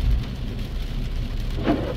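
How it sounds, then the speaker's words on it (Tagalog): Heavy rain drums steadily and loudly on surfaces, a dense unbroken roar with a soft low rumble and no talking. "Ayan, basang-basa sa ulan."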